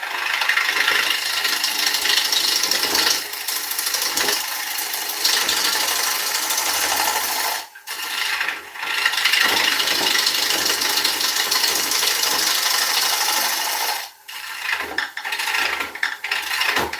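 A lathe tool takes continuous passes on a wooden bowl being turned, giving a steady hissing, scraping cut that drops out briefly twice as the tool lifts off, with no voices.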